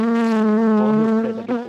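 Honeybees at an open hive produce a loud, steady, close-up buzzing drone, rich and continuous for a couple of seconds.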